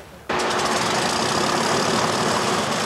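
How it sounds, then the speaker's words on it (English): Rolls-Royce Merlin engines of a Lancaster bomber burst into a loud, steady roar after a brief quiet start, a dense continuous drone that holds close and even to the end. "One by one, the Merlin engines kicked to life and pull the aircraft into the sky."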